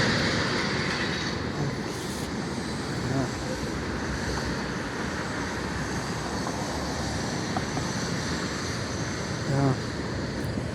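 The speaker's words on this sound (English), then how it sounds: "Long train." A long CN freight train rolls past at close range in Port Huron, Michigan, giving a steady, loud rumble with faint rhythmic clicking of wheels over rail joints and a few brief voices.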